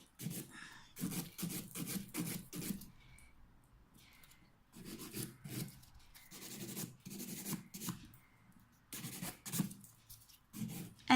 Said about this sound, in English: We're buffing, buffing, buffing.